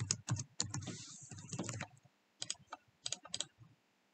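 Typing on a computer keyboard comes in two bursts of close, crisp clicks, a dense run of keystrokes followed by a short pause and a few more scattered taps.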